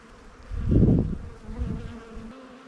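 Honeybees forage on a flowering tree, with a close buzz that swells loudly as one bee passes near, fades, then briefly returns over a soft background hum.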